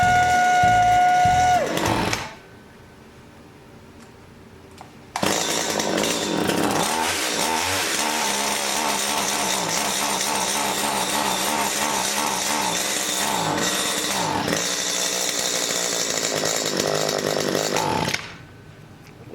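A garbage-picked 2-stroke STIHL pole saw engine starts and runs loudly and steadily for about thirteen seconds with slight wavering in pitch, then cuts out, with no voices over it.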